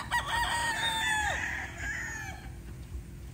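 A young sweater gamefowl stag crows once, a strained and slightly raspy call that trails off, with soft ambient noise afterward.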